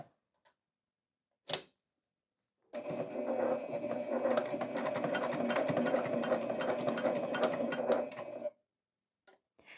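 A sewing machine stitches across a fabric pillow handle in one continuous run of rapid, rhythmic needle clatter lasting several seconds, close and clear, bracketed by a short click beforehand and quiet handling sounds after.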